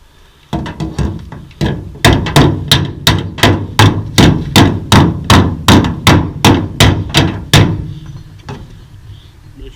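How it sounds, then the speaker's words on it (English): Steady run of sharp metallic hammer-and-dolly blows against a truck's sheet-metal body being repaired after a tree crash, about two per second, loud and close, after a few lighter taps at the start. "Now I'm going to try hammer and dolly to get a little bit closer"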